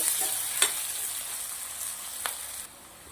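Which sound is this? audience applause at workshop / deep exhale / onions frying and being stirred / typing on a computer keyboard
onions frying and being stirred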